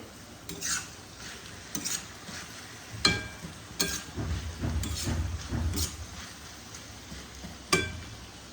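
Banana blossom curry (mochar ghonto) being stirred in a pan over medium heat: faint scraping and clinking of a spoon against the pot, in irregular strokes over a soft background sizzle.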